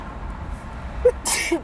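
A single short, sharp sneeze bursts out near the end, close and fairly loud, following a brief quiet vocal sound.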